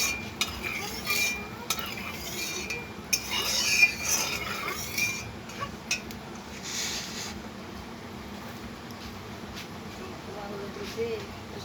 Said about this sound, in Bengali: একটু খুন্তি দিয়ে নেড়ে নেবেন।